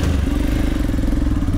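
A motorcycle labours uphill on a mountain trail toward Sailung, Dolakha, its engine a loud, close, rhythmic low thumping that throbs steadily throughout with no voices.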